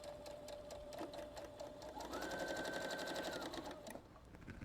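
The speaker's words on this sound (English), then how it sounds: "I'm going to sew right up the edge." A Brother Innov-is NS80e sewing machine stitches along a fabric edge, its rapid even needle chatter running steadily and shifting to a higher whine midway before easing, faint and close.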